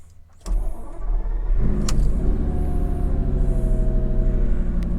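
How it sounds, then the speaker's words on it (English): A Lamborghini Gallardo's V10 engine rumbles loudly close by, its deep tone climbing as it revs up and then holding a strong, steady drone. "We will pop the windows down here so we get the V10 noises."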